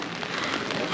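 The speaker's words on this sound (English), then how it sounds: "it's raining." Rain falling in the streets of Nuremberg, a dense, steady patter on hard surfaces filling a brief, close moment with no voices.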